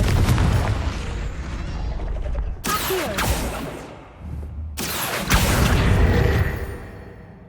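Confringo fire spell explosions in the Hogwarts Legacy video game: loud booming blasts with crackling bursts, two sharp impacts a couple of seconds apart over a rumbling background, no talking.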